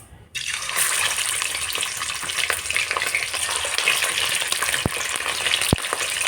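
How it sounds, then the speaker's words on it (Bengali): Chicken pieces frying in hot oil, a sudden loud sizzle that starts abruptly and holds as a dense, steady hiss with occasional sharp pops, close up and with no voices. "এবার আমি চিকেনটা ভেজে নেব"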